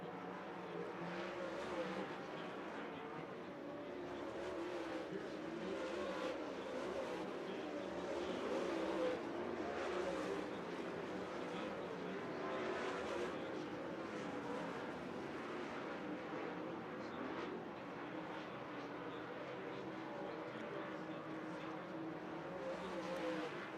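Race cars in an MLRA feature race at Thunderbird Speedway roar continuously around the track, a dense and loud engine drone swelling and fading as the pack circles through the turns.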